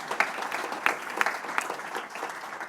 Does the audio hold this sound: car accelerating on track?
no